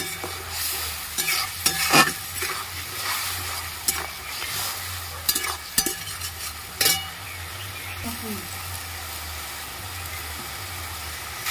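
Spice paste, with slit green chillies, being stir-fried in a pan for a Bengali cholar dal, giving a steady close sizzle broken by repeated sharp scrapes and clatters of a spatula against the pan.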